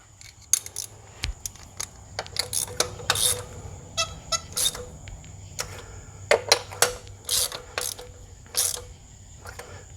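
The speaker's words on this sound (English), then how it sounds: "And then I'll tighten them with my ratchet." A hand ratchet clicks in short irregular bursts while spark plugs are snugged down in a Honda Odyssey engine fitted with a JDM F23A, with sharp close metallic ratcheting and small tool knocks.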